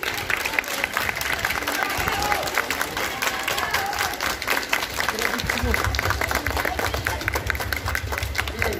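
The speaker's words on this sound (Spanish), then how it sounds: "a todos ustedes pido un fuerte aplauso para Canal 21" Crowd applause at a Christmas hot-chocolate gathering, many people clapping steadily at a lively, fairly loud level, with voices and crowd noise mixed in.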